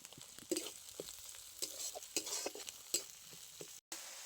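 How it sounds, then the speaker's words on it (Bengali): Onion, ginger paste and green chilli fry in a pan, a faint sizzle broken by scattered scrapes and clinks of stirring, with one brief dropout near the end. "পেঁয়াজ আদা কাঁচা লঙ্কা খুব ভালো করে ভেজে নিয়েছি"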